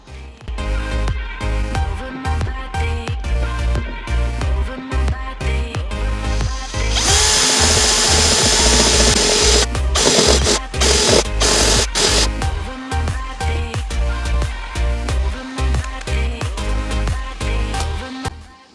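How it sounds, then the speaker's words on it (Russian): A power drill runs a bit sideways as a milling cutter through metal on a Sprinter 4x4 camper van build, with a long stuttering grind that peaks in a steady loud whine midway, then returns to choppy cutting bursts. "пользуюсь сверлом как фрезой."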